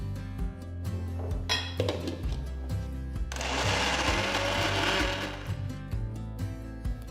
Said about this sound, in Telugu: ఇలా బ్యాచెస్లో పప్పుని వేసి రుబ్బడం వల్ల అంత ఈవెన్గా గ్రైండ్ అవుతుంది